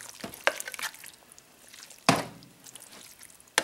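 Sauerkraut being mixed around by hand, giving soft wet squishing and stirring noises in a few short, close bursts with quiet gaps between them.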